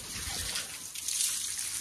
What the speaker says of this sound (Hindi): भाई मैं पानी छिड़कता हूँ